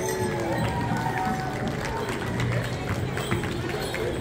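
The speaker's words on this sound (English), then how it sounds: "Second place, a winner. Big round of applause." Sustained crowd applause at a women's short fringe traditional special dance competition at a casino powwow, a dense steady wash of clapping and crowd noise holding for several seconds, with no one speaking.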